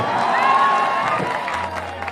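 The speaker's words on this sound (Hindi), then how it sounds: "मैं चाहता हूं कि एक जोरदार ताली से इनका स्वागत करना चाहिए आप सबको" A live stage-show crowd in Mumbai cheers and claps to welcome a guest, a dense burst of shouting and applause with excited voices rising over one another, loud and close, then easing slightly.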